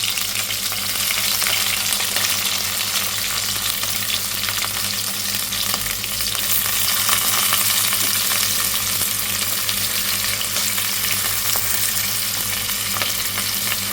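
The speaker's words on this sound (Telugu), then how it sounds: "యాడ్ చేసుకున్న తర్వాత మనం ఆనియన్, చిల్లీస్ మనం స్టిర్ చేసుకోవాలి, ఇలా ఫ్రై చేస్తూ ఉండాలి" Sliced onions and green chillies sizzle steadily in hot oil in a pan while being stirred for mint rice, a constant close frying hiss with no voices.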